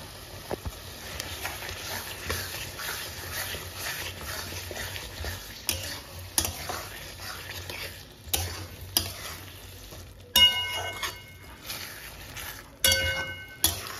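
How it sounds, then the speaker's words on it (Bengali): Cut potatoes frying in spiced oil as a Bengali soybean curry is cooked, a quiet sizzle under repeated clinks and scrapes of a spoon stirring in the pan, getting louder and sharper toward the end. "এবার এতে আমি দিয়ে দিব আলু"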